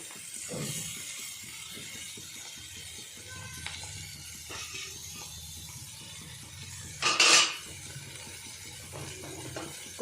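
Bitter gourd pieces with chili powder are stirred in a pan over a low flame, giving soft scraping and a faint steady sizzle, with one brief louder scrape partway through.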